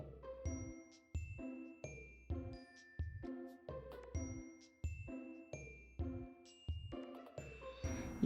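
A small bell tied to the bottom of a hand-embroidered spool ornament rings in repeated bright dings at a regular pulse, each tone decaying before the next strike, with no voices.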